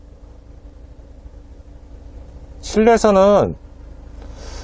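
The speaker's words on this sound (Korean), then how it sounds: "어느 정도 소리가 들리는지 들려드리기 위해서 지금 제가 시동을 켰는데요" A Genesis GV70 diesel SUV idles at a standstill, heard from inside the cabin as a soft, steady low thrum that continues throughout, with someone speaking briefly partway through.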